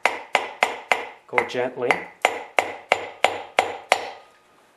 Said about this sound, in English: just grab a piece of wood, stick it on top of the piston like that, and now with the hammer, gently tap down